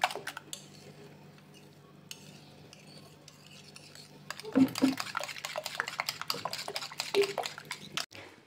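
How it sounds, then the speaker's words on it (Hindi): A whisk clatters rapidly against a bowl as a cup of milk is beaten into a batter for bread pakoda, a dense run of close metallic scraping and tapping after a quieter stretch. "अब इसके अंदर एक कप दूध में शामिल कर रही हूँ और इसको भी इसमें शामिल करके अच्छी तरह फेंट लेना है"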